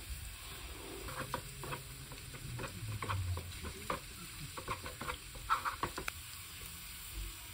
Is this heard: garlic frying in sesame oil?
yes